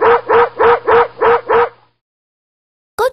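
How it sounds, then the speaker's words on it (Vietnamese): Two cartoon dogs bark loudly in a rapid, steady run of six barks, then fall silent before a single bark starts again at the end. "Có chuyện gì mà hai chú chó sủa dữ thế nhỉ?"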